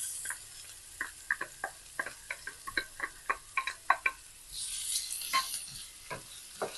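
Garlic, shallot and ginger sizzle gently in oil over a low fire, a quiet frying hiss broken by a rapid series of sharp ticking clicks from stirring, followed by a brief louder burst of sizzle.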